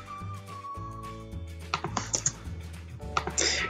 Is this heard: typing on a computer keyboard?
yes